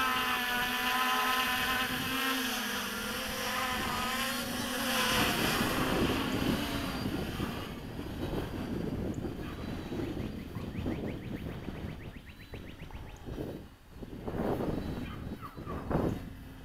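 Steady wind roars and buffets across the microphone, mixed with a boat engine's drone and waves splashing around the hull.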